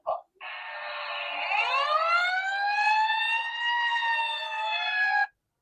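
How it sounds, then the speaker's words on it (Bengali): A toy sound book plays an electronic fire engine siren. It is a single rising, wailing tone that lasts about five seconds, clean and isolated, and is bracketed by soft button clicks. "এখানে ফায়ার ট্রাক আছে, ফায়ার ইঞ্জিন, দমকল।"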